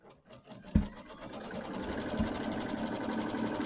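A sewing machine stitches a placement line for batting on a mini quilt, a steady mechanical whir that starts after a couple of soft thumps and runs on evenly at close range.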